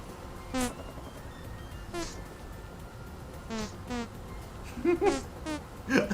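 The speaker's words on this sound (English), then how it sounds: "I love the bees." Bees in the Vintage Story video game buzz in short, fairly faint bursts that come and go against a quiet background, with no speech over them.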